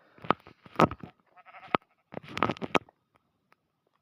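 Several short video game sheep bleats come in quick bursts with brief pauses between, close and clear, over an otherwise quiet background.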